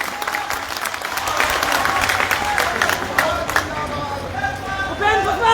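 Dense applause and crowd noise from a large audience at a political rally on constitutional rights and delimitation reform in Muzaffarpur, sustained and fairly loud, with a voice emerging near the end.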